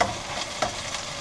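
Boxty potato mixture frying in a pan as it is pressed and smushed together, a steady sizzle broken by a few soft scraping stir strokes, close and alone.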